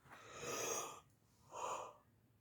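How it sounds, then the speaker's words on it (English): Two long breathy yawns, one after another, from a person close to the microphone, each a soft airy swell with a short pause between them. "I can't stop yawning"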